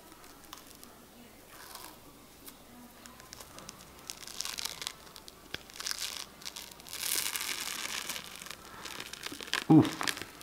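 A dried Body Drench charcoal peel mask is slowly pulled off the skin from one edge, giving close, soft crinkling and tearing crackles that grow louder and busier as the peel goes on.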